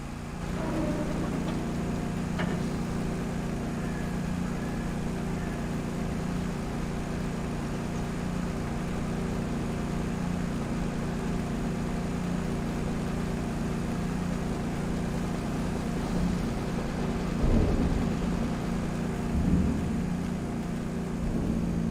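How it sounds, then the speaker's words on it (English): A farm machine engine in the Farming Simulator 22 video game drones steadily at a low, even pitch, shifting slightly as it changes down after overloading, with no voices. "Then the engine changes down when it gets done overloading."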